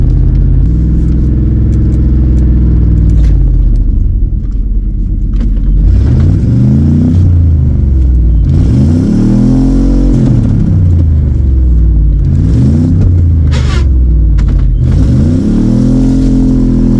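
An OBS-era Chevy plow truck's engine revs repeatedly, loud and close, rising and falling in several surging cycles over a constant idle rumble.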